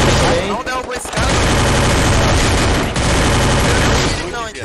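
Rapid video game gunfire in a 4v4 competitive match, with dense, loud bursts of shots filling nearly the whole stretch and brief gaps between volleys, while players talk excitedly underneath.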